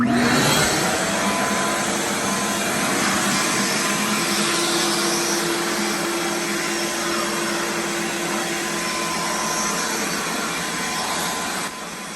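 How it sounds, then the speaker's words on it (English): A Ridgid 4-gallon shop vacuum roars steadily and loudly close by, a constant broadband whine with a faint tonal hum, running without pause until a slight drop near the end. "I'm just gonna vacuum that. Turn it on."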